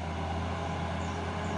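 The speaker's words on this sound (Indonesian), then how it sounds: "Masuk lagi satu nih truk Puso coklat ini" A brown Fuso truck passes on a road, a steady loud diesel drone with a low engine hum and broadband road noise, heard close for a brief moment without talking.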